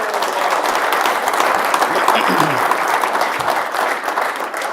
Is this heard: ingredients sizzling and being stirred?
no